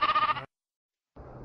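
Two sheep bleats, a loud wavering first call, then a brief silence and a lower, softer second bleat, close and isolated as a sound effect.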